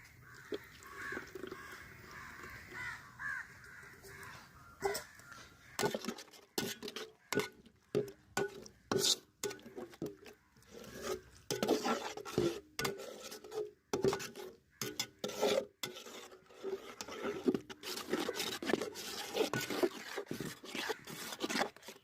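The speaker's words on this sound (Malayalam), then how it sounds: "അപ്പോൾ ഇനി നമുക്ക് ഈ മുട്ട ഇതിലേക്ക് ഒഴിച്ചു കൊടുക്കാം." Beaten egg goes into a pan for egg bhurji and is stirred, making a long run of rhythmic scraping and rasping strokes against the pan, fairly close and steady.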